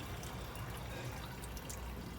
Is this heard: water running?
yes